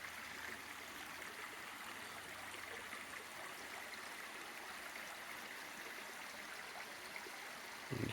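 Steady flow of a small stream running under a bridge and down a hill, a constant hissing rush with faint gurgles, even in level and heard alone.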